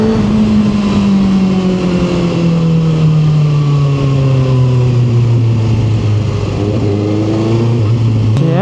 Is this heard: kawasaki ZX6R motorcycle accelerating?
yes